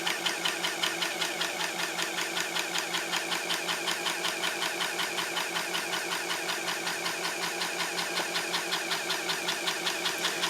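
The built-in dot-matrix printer of an Epson HX-20 portable computer prints continuously, a fast, even buzzing chatter of print head strikes with regular line pulses, close and steady with no talk.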